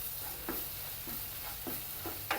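Onions with Kashmiri chili powder and coriander powder being sautéed for mushroom masala, a soft low sizzle with a handful of faint spoon scrapes at irregular intervals, quiet and close.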